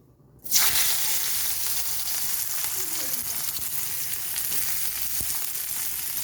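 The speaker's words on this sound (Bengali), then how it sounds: "এই তেলের মধ্যে আমি করলাগুলোকে ভালোভাবে ভেজে নেব" Sliced bitter gourd dropped into hot oil in a wok, giving a sudden loud burst of sizzling that settles into a steady, dense crackling fry, heard close and alone.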